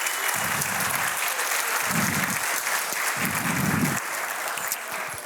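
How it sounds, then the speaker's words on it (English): Audience applause at a business conference session, a steady wash of clapping from a large crowd that carries on for about five seconds without pause. "give them a round of applause"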